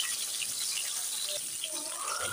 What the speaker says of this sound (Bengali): তেলটা গরম হয়ে গেছে। এবার আমি বেগুনটা দিয়ে দিচ্ছি।